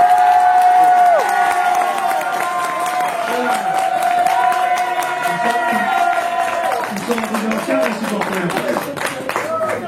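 An evening crowd at the 2014 Route du Rhum event cheers and applauds for sailor Maxime Sorel. The clapping and shouting stay loud and sustained throughout, with whistles and excited voices rising over the steady roar.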